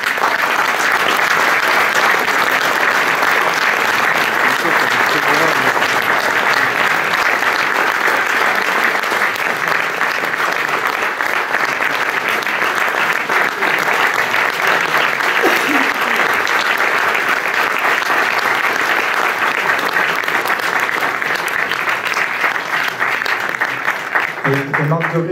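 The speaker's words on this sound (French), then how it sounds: "On accueille, sans plus attendre et sous vos applaudissements évidemment" Sustained audience applause fills a hall as Art Spiegelman is welcomed on stage at a 2021 talk, loud and steady throughout with no break.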